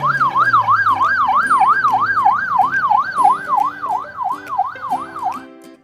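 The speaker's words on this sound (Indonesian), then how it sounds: "Di sini ada mobil ambulan." A toy ambulance's electronic siren wails in a steady, fast up-and-down warble, loud and close, running for several seconds with no talking.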